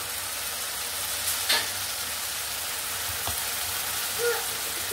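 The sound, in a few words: stir-frying spices with salt and turmeric in a pan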